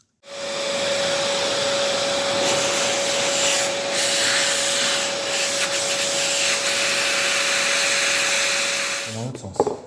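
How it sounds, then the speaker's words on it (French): A vacuum cleaner cleaning dust from the hybrid battery filter of a Lexus IS 300h, a loud steady whine with a constant tone and scraping rubs from the nozzle, cutting off abruptly near the end. "on va prendre l'aspirateur, montrer bien à la caméra, et on va nettoyer cette particule"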